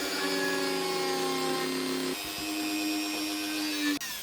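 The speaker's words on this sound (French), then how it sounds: "Je vais percer des trous." A power drill boring holes in a craft workshop runs steadily and loud, shifting pitch midway and stopping abruptly near the end, with no talk.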